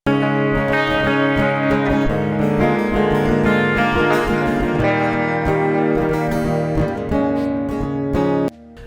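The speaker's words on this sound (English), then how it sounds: "The trick to do that was through using this augmented chord at the end of the chorus" A full band plays the end of the chorus of a song, holding rich sustained augmented-chord harmonies over a steady rhythm before cutting off abruptly near the end.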